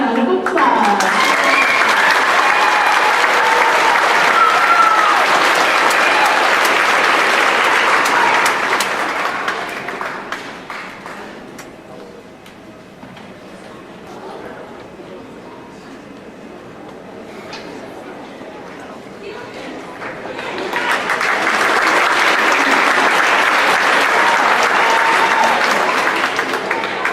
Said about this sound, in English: Okay, one last round of applause.